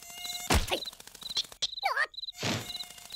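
A cartoon mosquito gives off a thin, wavering whine that comes in short bursts, broken up by sharp whacks and a brief squeaky cartoon effect.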